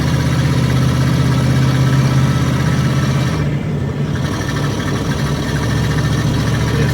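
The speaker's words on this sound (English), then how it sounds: "see, the vehicle is struggling." An RV engine strains in heavy Orlando traffic, giving a steady, loud low drone that holds for several seconds with a brief dip midway and no talking.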